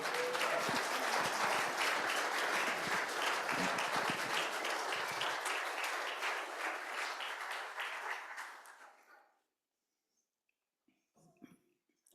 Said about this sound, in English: with a warm and welcoming round of applause